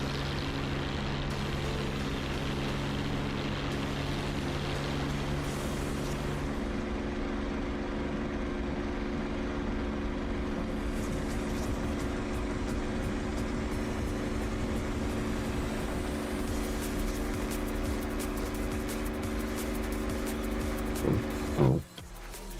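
An aircraft rolls down the runway in the DCS World flight simulator, its engine a steady, loud, unbroken drone with layered tones that holds throughout, ending in a brief knock near the close.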